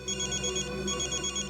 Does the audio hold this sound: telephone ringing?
yes